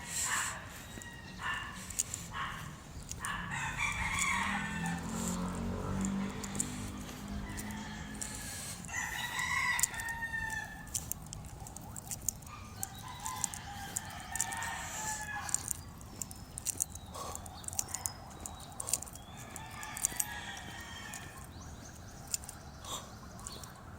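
A rooster crows amid chicken clucking, over a steady background of outdoor noise and scattered clicks.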